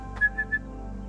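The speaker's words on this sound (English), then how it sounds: "He's got lots of commands that we do by whistle" Three short whistle blasts, one stronger then two lighter, used as a training command for Flynn, a springer spaniel, on a forest walk among bluebells, heard faint and alone over quiet outdoor background.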